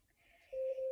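An Alexa smart speaker timer alarm begins beeping, a steady pure electronic tone rising in after a faint start in a quiet room.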